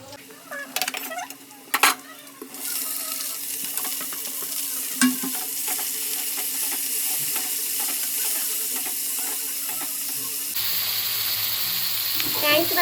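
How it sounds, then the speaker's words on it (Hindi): Oil tempering in a wok with asafoetida, cumin, garlic and chillies, a steady loud sizzle and crackle with occasional spoon clinks and stirring scrapes close by. "मैंने इसके अंदर कढ़ाई में तेल, हींग, जीरा, लहसुन, मिर्ची डाल दिया है।"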